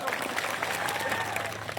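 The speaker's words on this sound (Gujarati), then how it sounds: "એમના માટે જોરદાર એકવાર તાળીઓ પાડી લો" A crowd at a public rally bursts into dense, steady applause for the police staff present, loud and continuous for a couple of seconds.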